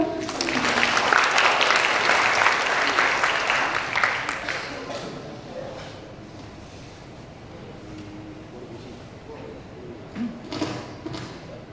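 Applause from a seminar audience at a national occupational safety and health event, a loud wash of clapping for the first few seconds that fades into quieter room sounds with scattered taps and murmuring.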